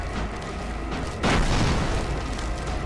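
In the video game Airships, a cannon is destroyed in a deep, booming explosion that bursts in abruptly partway through and leaves a loud, rumbling roar over steady background noise.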